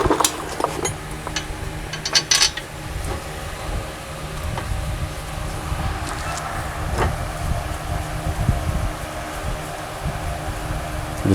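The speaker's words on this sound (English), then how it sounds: "I'm just tightening the bolts by hand" Bolts on a 2014 Toyota Highlander front brake caliper turned by hand: scattered metallic clicks and rattles over a constant hum, close, with a couple of sharper clinks near the start and no talking.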